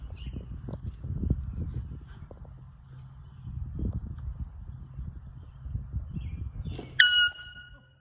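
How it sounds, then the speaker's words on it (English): A sudden loud air horn blast goes off on a golf course during a tee-off prank, cutting in near the end after quiet outdoor rustling and low background noise. "With air horn action."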